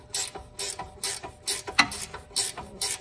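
A 19mm ratcheting wrench tightens a replacement CV shaft on a 2013 Honda Fit, producing about eight quick bursts of sharp ratchet clicks in a steady back-and-forth rhythm, close and distinct.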